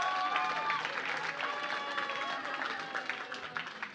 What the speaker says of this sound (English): Give applause to Ibu Carole.